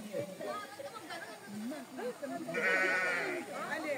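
Sheep bleating near a scenic spot at Qingjing, with wavering calls heard under a person talking close by.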